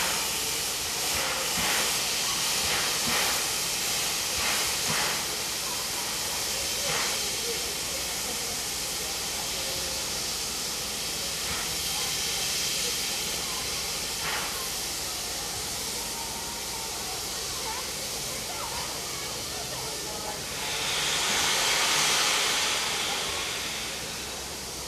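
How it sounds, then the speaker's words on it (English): Steam locomotive 3801 easing into platform 1 at Maitland station during Hunter Valley Steamfest, a broad steady hiss of escaping steam with a few chuffs early on and a louder surge of venting near the end, heard from the platform. "3801 is seen pulling in on platform 1, ready to enter Maitland Yard to be serviced"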